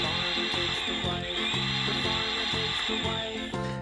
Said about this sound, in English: Here's a red power drill.